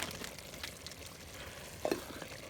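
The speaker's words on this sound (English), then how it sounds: "Actually we're going to start stir frying now." Minced meat stir fries in a clay pot over a village fire, a soft continuous sizzle with light scraping and stirring close by, with no voices.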